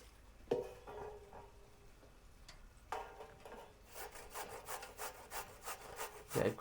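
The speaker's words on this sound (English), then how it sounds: "Yeah, grating a potato." Potato being grated by hand, a series of rough rasping scrapes that start sparse and become a steady rhythmic rubbing, close and clear with no talk.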